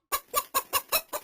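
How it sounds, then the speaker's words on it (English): A cartoon chicken in a Wheels on the Bus nursery rhyme clucks six times in a steady, evenly spaced rhythm, loud and close with no talking. "There's a chicken trying to cross the road."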